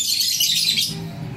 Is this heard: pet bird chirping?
yes